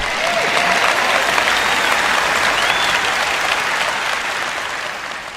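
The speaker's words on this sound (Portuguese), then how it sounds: "Eu sei que estão mais animados do que esse aplauso." A large church congregation applauds in a loud, dense burst of clapping that holds steady, then gradually thins and fades.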